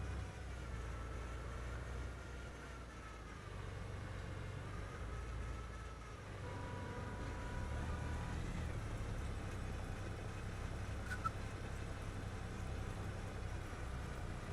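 A truck idles steadily in a farming video game, a low continuous engine drone at moderate distance with faint music layered over it and no one talking.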